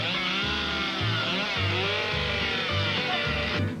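A saw roars steadily through a log during a lumberjack-style contest, loud and close, its drone pulsing in a regular rhythm of strokes.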